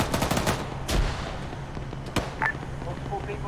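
Booming main gun and rapid gunfire from a tank battle in a military video game, loud blasts with a dense rattle at the start and another heavy shot near the middle, with voices talking over it.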